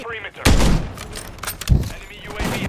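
Gunfire in Modern Warfare III: two or three separate heavy shots with booming tails spaced a second or so apart, amid faint background game noise.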